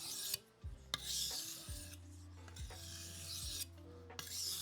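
A knife is drawn across a sharpening stone in slow, even rasping strokes, each stroke rubbing clearly and close up with short pauses between them.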